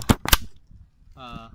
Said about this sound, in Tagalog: maririnig nyo nagtitrigger yung ating relay